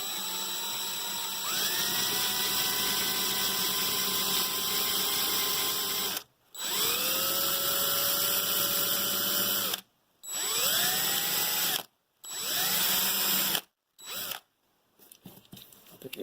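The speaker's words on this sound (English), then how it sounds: "So I'm going to drill it really easily" An electric drill bores into a die-cast Nova toy car in several loud, close bursts. Each burst spins up to a steady whine and then cuts off abruptly, with short silent gaps between them.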